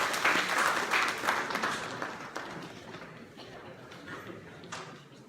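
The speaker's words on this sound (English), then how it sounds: "Let's welcome her with you round of applause." A seminar audience applauds a guest speaker at a college stress-management session. The clapping is moderate and somewhat distant at first, then thins out over a few seconds into scattered claps.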